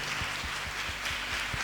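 A congregation at a Lenten retreat claps in a steady rhythm, roughly three to four beats per second, over a continuous wash of crowd noise.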